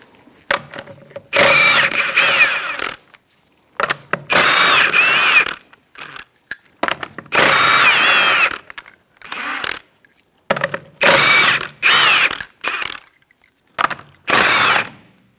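Power tool with a 21mm socket spinning off rear-wheel lug nuts on a 2004-2009 Mazda 3: repeated loud whirring, ratcheting bursts of one to two seconds separated by short pauses, close up.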